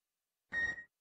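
A single short electronic beep from radio chatter in the video game Kerbal Space Program, a clean tone lasting a fraction of a second amid silence.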